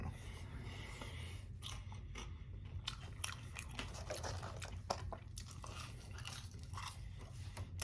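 Wendy's fries being chewed close to the mic, with soft crunching and wet mastication sounds continuing steadily at low volume, no talking.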